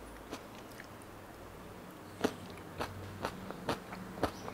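Crunchy gooseberry rice being chewed close to the mic, a handful of crisp bites and crunches spaced over several seconds against quiet room tone.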